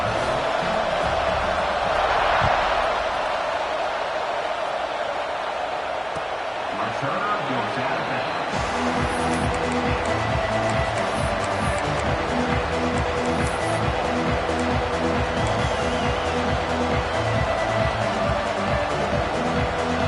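Football stadium crowd roaring at an Ohio State game, a dense, loud, continuous wall of cheering that swells early and then holds steady as a rhythmic, pulsing roar, with a commentator talking over it.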